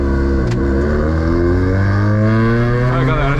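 A remapped VW Saveiro 1.6 MSI pickup with an aftermarket exhaust revs up loudly close by, its engine tone climbing steadily through one sustained pull with no talking over it.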